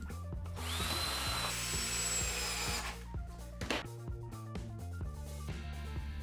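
A power drill drives a screw into wood while building blade guides for a homemade band saw, a whirring burst of a few seconds over background music, followed by lighter clatter.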